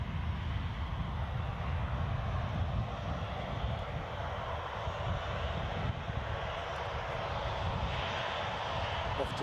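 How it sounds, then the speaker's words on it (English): A Ryanair airliner moving on the ground at Edinburgh Airport gives a steady, continuous jet-engine roar that holds at a fairly even level throughout, heard from some distance. "we've also got this Ryanair moving"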